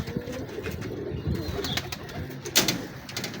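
Jagchina pigeons cooing close by in a loft, soft repeated low coos with brief wing flutters and sharp noises, no speech.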